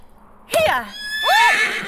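A horse neighs twice in quick succession, loud and close, with high, wavering whinnies.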